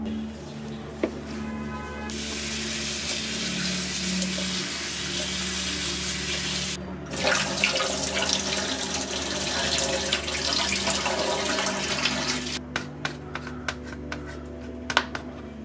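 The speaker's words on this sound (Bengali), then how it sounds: "তো ফুলকপিটাকে ভালো করে ধুতে হবে।" Cauliflower is washed under a running kitchen tap for Bengali phulkopi malai curry, with a steady rush of water splashing into a sink that cuts off briefly partway through, then resumes with small clinks and knocks.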